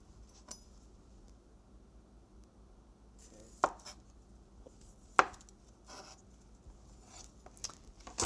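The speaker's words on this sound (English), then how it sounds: "So when you do your beets, you wanna trim the ends and then peel from there." A knife works on golden beets, with a few faint, sparse cutting knocks on a board over a quiet background as the ends are trimmed and the skin peeled.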